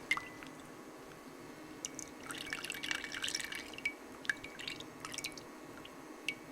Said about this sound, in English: now I just strained the rice water.